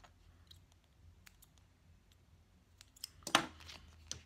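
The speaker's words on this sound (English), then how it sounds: "I'm just going to trim those threads away" Scissors trim loose threads on a cork ID wallet, giving small, faint snips and clicks close by, ending in one sharper cut near the end.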